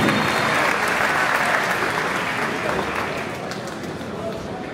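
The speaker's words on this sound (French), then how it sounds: "Allez, on peut les applaudir bien fort." A boxing-event crowd applauds the fighters in a dense, continuous round of clapping that stays strong, then eases slightly toward the end, with indistinct voices mixed into the arena noise.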